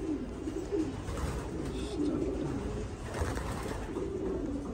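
Racing pigeons coo softly and continuously inside a loft, low rolling calls overlapping at close range with faint background murmur.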